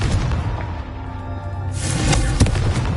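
A Confringo fire spell in Hogwarts Legacy lands with a deep booming blast, a rolling low rumble that swells and then flares with a brighter burst and a sharp thump near the end.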